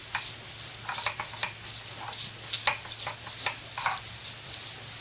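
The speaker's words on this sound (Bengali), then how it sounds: "পাটার মধ্যে মশলা বাটে।" Spices are ground by hand on a stone slab at home during a rainy-day power cut, giving a quiet, rhythmic series of rough scraping strokes and soft gritty rubs at close range.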